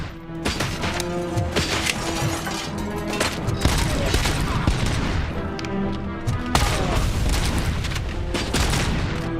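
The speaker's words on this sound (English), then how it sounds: "I think that grenade went right out the window." Gunfire and a grenade explosion shatter windows in the RoboCop Rogue City game, a continuous dense barrage of shots, booms and crashing debris throughout, loud and close with a fresh burst of impacts partway through.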